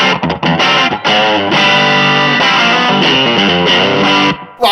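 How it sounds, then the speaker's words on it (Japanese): Electric guitar played through a Benson preamp overdrive pedal, giving an amp-like distorted tone with strong mids: a loud, continuous run of chords and riffs with brief gaps near the start and end. "これは割とアンプの歪みっぽく歪むオーバードライブですかね"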